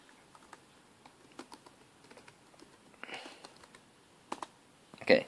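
A computer keyboard clicks as someone types a password, with scattered soft keystrokes in an irregular rhythm, a brief rustle, and a louder burst of clacks at the end in a quiet room.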